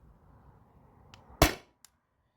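A Salt Supply S2 CO2 airgun fires a 9.88 gram PVC-coated steel ball, powered by a 20 oz CO2 tank. One sharp, loud, close shot rings out, followed by a faint click.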